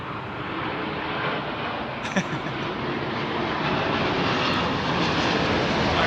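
Aeromexico jet at London Heathrow, a steady broad rumble of engine noise that holds level and grows slightly louder over a few seconds, fairly distant, with no talking.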